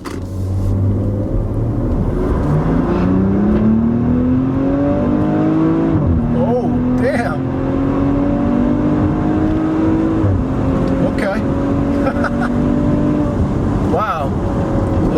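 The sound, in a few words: 2017 Maserati Levante accelerating hard in sport mode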